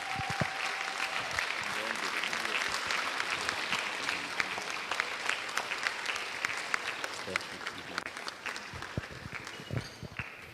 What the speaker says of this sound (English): Can we give a louder clap to him?